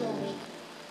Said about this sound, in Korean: 비가 쏟아지는데 강변에선 흥겨운 음악 소리가 빗소리를 덮고 있습니다